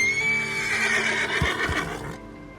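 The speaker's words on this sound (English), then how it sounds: "your horse will rear in a classic Wild Wild West style" Horse in Red Dead Redemption 2 rearing with a long, loud, close whinny, followed by two heavy hoof thuds as it lands.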